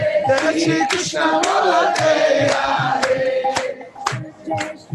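Hand clapping during a kirtan session, sharp rhythmic claps in a loose, irregular pattern layered over singing and background voices, close and fairly loud.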